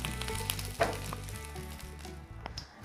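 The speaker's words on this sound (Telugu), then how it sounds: "మిగిలిన ఆయిల్లో టమాటాలు వేసుకోవాలి" Ripe tomatoes frying in leftover oil for a tomato onion pachadi give a steady close sizzle with a brief louder crackle near the start, and no talk.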